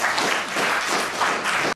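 Studio audience applause on a television court show, a loud dense burst of many hands clapping that holds steady, then cuts off abruptly.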